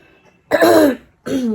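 Two short, loud bursts of throat clearing and coughing, close up, separated by a brief pause, with no talking.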